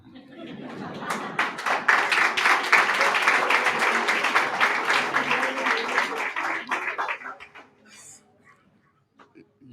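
Applause from an audience at a poetry recital by Rafael Cadenas: many hands clapping in a steady, rhythmic roar that holds for several seconds, then tapers to a few stray claps and near silence.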